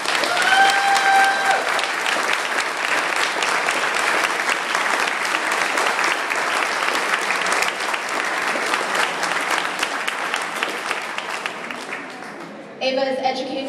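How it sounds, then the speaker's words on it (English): Sustained, loud audience applause honoring a military veteran at a Trans Lobby Day speech, a dense steady wash of clapping across the whole stretch with a brief dip near the end. "I'd like to just ask for a round of applause for her service"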